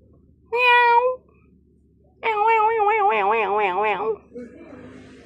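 A cat meows twice up close, first a short call, then after a pause a longer, wavering meow that rises and falls before trailing off into a faint background murmur.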